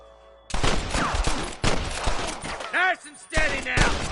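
Bursts of rapid gunfire in short volleys in the video game Red Dead Redemption, loud and close, with shouted voices breaking through between the shots.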